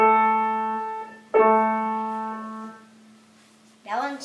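Two struck notes on the same pitch, A, from a Steinway Boston GP 178 grand piano, each ringing and fading out, followed by a brief bit of voice at the end.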